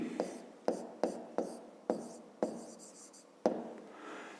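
Pen or chalk strokes writing out a math equation, a series of about seven sharp scratchy bursts with short pauses between, close and fairly quiet.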